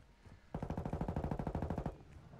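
Rapid automatic gunfire in Call of Duty, a loud close burst of about twenty evenly spaced shots lasting roughly a second and a half, with quieter background noise before and after.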